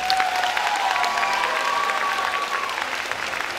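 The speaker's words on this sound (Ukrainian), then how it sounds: "а в мене за сценарієм написано «Бурхливі оплески»" Sustained, dense applause from a graduation ceremony audience at a gymnasium in Myrhorod fills the hall steadily and loudly, with a faint tonal line threading through the clapping.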